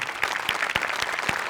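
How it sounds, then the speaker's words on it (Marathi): Studio audience on a Marathi comedy show bursting into applause for the directors, dense steady clapping with a few sharper claps standing out. "त्यामुळे एकदा दिग्दर्शकांसाठी पण टाळ्या."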